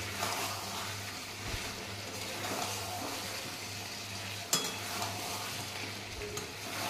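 Mutton curry with pre-fried potatoes is stirred in a pan, a continuous soft sizzle with scraping spoon strokes and one sharp clack near the end, no voices.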